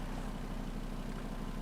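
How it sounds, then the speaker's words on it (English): Steady idle of a VW Passat engine that may have an exhaust leak, a continuous low rumble with a faint irregular rasp, heard close and alone. "I'm pretty sure it's got some sort of exhaust leak or something on it."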